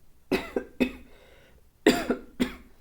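Four harsh coughs come in two pairs with a short pause between them, close and fairly loud, with no speech.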